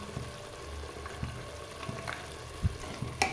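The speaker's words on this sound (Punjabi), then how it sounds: "2 ਮਿੰਟ ਆਪਾਂ ਮਸਾਲੇ ਨੂੰ ਇਦਾਂ ਭੁੰਨ ਲੈਣੇ ਆ" Spice masala roasts and is stirred in a pan for sweet potato sabzi, a steady low sizzle with occasional soft scrapes and taps of the spoon against the pan.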